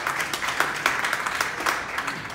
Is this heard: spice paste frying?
no